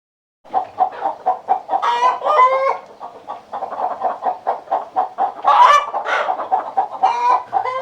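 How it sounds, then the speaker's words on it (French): A flock of hens clucks all at once in a busy chorus. Rhythmic, overlapping clucks come up close, broken now and then by louder squawking calls. "Les poules caquettent toutes en même temps."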